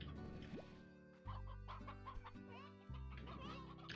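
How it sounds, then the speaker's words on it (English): Stony hens clucking in the video game Slime Rancher, repeated short cartoonish clucks over a playful musical backdrop with low sustained notes. "Well, lots of stony hens."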